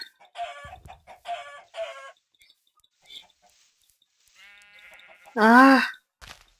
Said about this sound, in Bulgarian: И има овце, супер.